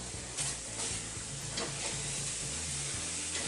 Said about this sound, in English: so that those coconut flakes do end up just toasting a little bit